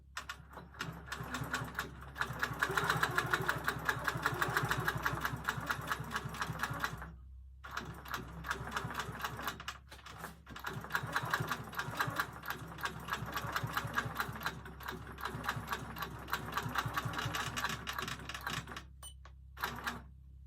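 Sewing machine basting a quilt sandwich on a Cutie quilting frame, a fast steady needle chatter running close and continuous with a few brief pauses.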